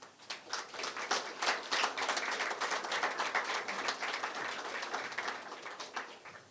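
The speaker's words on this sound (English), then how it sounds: "I would ask that you give him a round of applause" Warm round of applause from an audience at a discussion with young professionals, many hands clapping densely and steadily, building quickly and sustained before easing off near the end.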